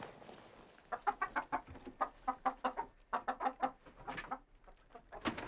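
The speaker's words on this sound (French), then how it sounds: "Voilà les poules de Roland" Chickens in a winter countryside setting cluck in quick bursts of short, rhythmic calls, fairly faint and close together, with brief pauses between runs.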